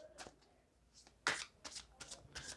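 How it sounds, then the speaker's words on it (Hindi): Tarot cards shuffled close by in a quiet room, a series of short crisp riffling and flicking bursts, one sharper snap in the middle, with no talk over them. "और भी हम आपके लिए कार्ड्स निकालते हैं।"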